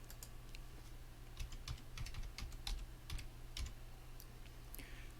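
Someone types in bursts on a computer keyboard in Windows 11, with soft close key clicks running in short irregular runs over a low steady hum. No one speaks.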